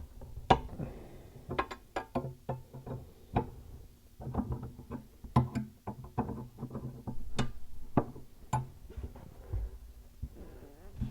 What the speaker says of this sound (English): And loosen up this supply nut.